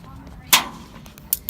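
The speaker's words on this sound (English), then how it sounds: "Alright, I'm gonna bang it against this metal thing." A fidget spinner struck hard against a metal object gives one loud, sharp metallic bang, followed later by two smaller knocks, with faint room noise in between.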